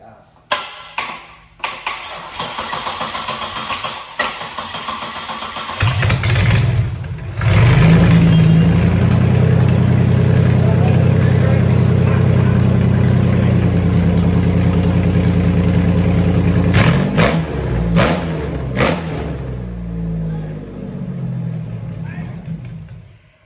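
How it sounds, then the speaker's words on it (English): A supercharged 3800 V6 swapped into a Pontiac Fiero cranks, catches and settles into a loud, steady running rumble for about fifteen seconds before stalling, with clicks, clatter and shop noise around it. "All right, we're about to fire it for real. On gas. See how long she'll run for."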